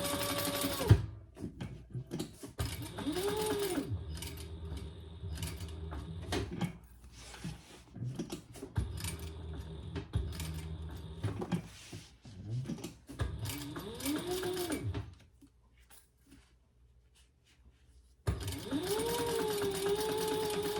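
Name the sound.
sewing machine sewing down each side of a bag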